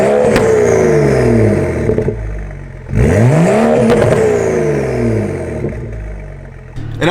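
A BMW 335i F30 with a 3.0-litre inline-six, catless downpipe and muffler delete revs hard and loudly, rising and falling in repeated sweeps. A brief drop comes midway before another strong rev climbs, with no talking.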